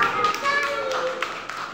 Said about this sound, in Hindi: बताओ बच्चों ताली